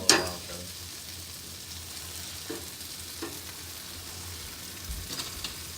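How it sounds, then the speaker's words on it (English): A soft, continuous sizzle of grilled cheese frying in a pan hisses steadily and fairly quietly, with an occasional faint clink and no talking. "sizzling is very, very satisfying"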